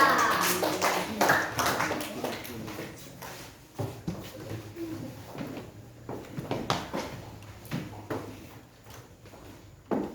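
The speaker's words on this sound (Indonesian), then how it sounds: "berikan tepukan buat kelompok 2" Classmates clap for a student group in a classroom, scattered uneven hand claps of moderate loudness that rise and fall over several seconds with a few louder sharp claps, alongside faint chatter.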